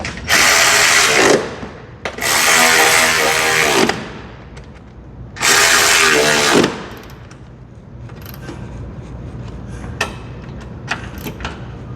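A power ratchet snugs down the bolts on a car strut, three loud, close buzzing runs of about a second each with short pauses, then lighter clicks and clinks of handling, and no talking.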